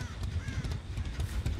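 Crows cawing in the Dead by Daylight video game, a few short caws over a low rumbling game ambience, moderately faint throughout.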